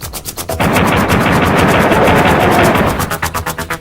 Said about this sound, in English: So now throughout this level, Duke's pistol bullets will remain at 47.